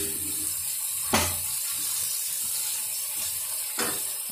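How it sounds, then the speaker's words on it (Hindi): Chillies and cauliflower fry together in a pan with a steady close sizzle, broken by a couple of brief louder bursts of spatter or stirring. "धीरे धीरे मिर्ची और गोभी जो है वो दोनों फ्राई हो रही हैं एक साथ में।"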